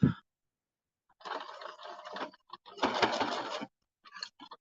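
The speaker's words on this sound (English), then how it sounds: "You want to sew the complete tab down." A sewing machine stitches down the tab of a welt pocket on a bomber jacket, running in several short, close bursts of rapid mechanical whirring separated by brief silent pauses.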